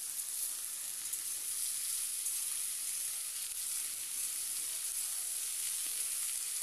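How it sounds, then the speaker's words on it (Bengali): Bitter gourd and potato pieces stir-fry in hot mustard oil, a steady close hiss of sizzling that continues without break, no voices. "আর করলা আর আলুটা দেওয়ার পরে আমি তেলের মধ্যে 2 থেকে 3 মিনিট খুব ভালোভাবে নাড়াচাড়া করে নেব"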